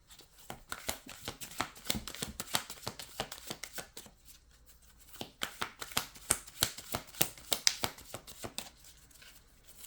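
Tarot cards being shuffled by hand, with rapid bursts of crisp riffling and slapping in two long runs separated by a short pause, close and fairly loud.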